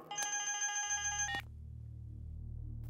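A telephone rings with a bright electronic trill for just over a second, then stops, leaving a low steady hum.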